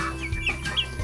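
Farm chickens give a few soft, brief clucks up close in a short, quiet moment, with no talking over them.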